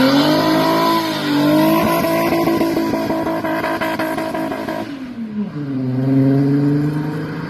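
A 1980 Volkswagen Rabbit pickup fitted with a 3.6 VR6 engine taken from a 2006 Passat runs loud and close, its revs climbing and holding, then dropping sharply before settling into a steady, throaty idle-to-rev tone.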